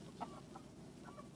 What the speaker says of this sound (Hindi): ये देखें, ये है एक मुर्गा, ये रेड कलर का